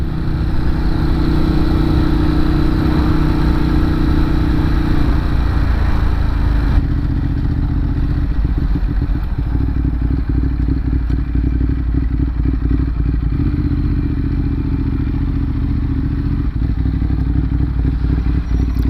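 Ducati 916 motorcycle in Red Bull race colours arriving, its engine a loud, steady, close rumble that shifts pitch partway through, with a faint clatter and no talk.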